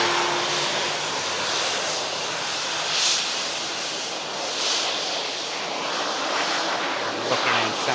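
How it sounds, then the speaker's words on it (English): A 36-year-old propeller airliner coming in to land, its turboprop engines giving a steady roar with a hissy upper edge that swells gently a few times as it approaches, fairly close, with no speech. "Bit of prop action on the way in."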